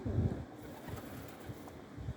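Low, soft cooing from pigeons repeats in a gentle rhythm, with a few muffled fluttery sounds, fairly faint and nearby.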